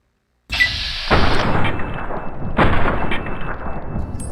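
Two loud gunshots in Fallout New Vegas, fired at bats, each a sharp blast followed by a long rumbling tail that fades out slowly.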